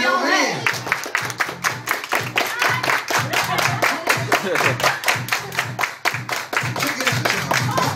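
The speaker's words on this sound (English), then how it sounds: "Everybody clap your hands." A crowd of people claps hands together in a steady, rhythmic beat at a family event, loud and continuous, with a voice talking and chanting over the clapping.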